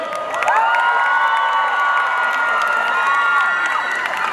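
A large crowd at a music label launch event screams and cheers continuously, high-pitched shrieks blending into a loud, sustained roar throughout.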